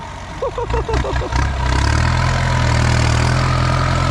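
A Kubota M9540 tractor engine runs at a steady, loud idle close by, with a deep, continuous low rumble after a brief burst of voice-like sound at the start.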